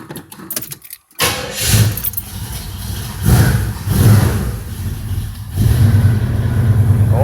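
A 1976 Trans Am with a built 455 V8, bored .030 over, cold-starts through an aluminized 2.5-inch mandrel-bent Summit exhaust. Keys jingle briefly, then the engine cranks and catches loudly and settles into a rumbling, throaty idle with a few swells in revs.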